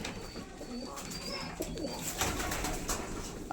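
Pigeons in a loft holding about fifty pairs coo softly and repeatedly against a steady bed of rustling and shuffling, with several birds calling at once at close range.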